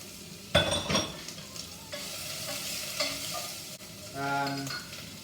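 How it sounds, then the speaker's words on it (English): Onion, garlic, chilli and ginger frying in a hot pan, with a loud burst of sizzling as they go in, then steady frying hiss and occasional stirring scrapes, no talking. "We're going to chuck in the onion, garlic, chilli and ginger. Nice and hot. I'm going to brown that off."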